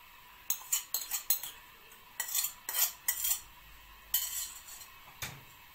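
A metal spoon scrapes and clinks against a pot while pasta is mixed with tomato sauce and béchamel, giving irregular close stirring knocks and scrapes between brief pauses.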